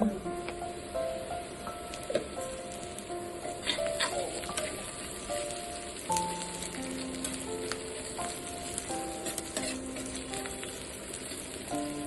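Chopped onions with a little cumin and salt frying slowly in a pan, giving a continuous soft sizzle with scattered small crackles and occasional light clinks of stirring.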